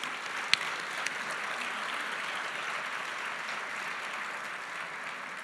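Steady, moderately distant applause from a seated audience at a book fair presentation, even clapping sustained throughout with a couple of sharper claps standing out near the start.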